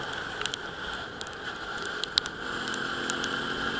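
Steady patter of rain with scattered droplet ticks over a constant motorcycle engine hum, fairly close and even throughout, during a ride on a Euro Rapido 110.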